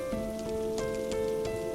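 Steady rain falling in an animated story, a soft continuous patter with faint drop ticks under a sustained musical tone, no voices.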